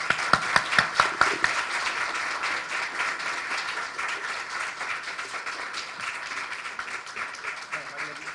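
Audience at a university round-table panel applauds as a professor is welcomed to the table, a few loud, distinct claps up front merging into sustained crowd clapping, with voices murmuring underneath.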